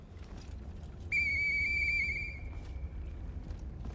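A sharp, steady high whistle is blown in the video game Lies of P, held for over a second and trailing off quieter, over a constant low background rumble.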